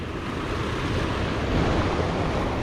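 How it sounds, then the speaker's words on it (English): A big waterfall swollen after heavy rains pours at its drop point, giving a loud, steady, close roar of rushing water with no voices. "There's the actual waterfall, big waterfall drop point."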